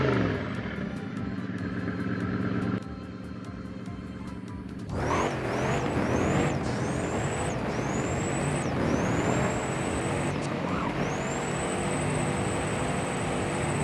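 A Noble M600 Carbon Sport in the racing game Driving Empire revs hard and close. The engine snarls, then climbs through repeated high-pitched surges, with each sharp upshift cutting in between them.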